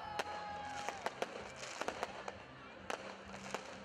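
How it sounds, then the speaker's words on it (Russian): Festive fireworks salute bursting over a city square during a town anniversary celebration, a string of sharp cracks and booms at irregular intervals over a distant crowd murmur, with a voice talking throughout. "В завершение торжественного мероприятия на площади города прогремел праздничный салют."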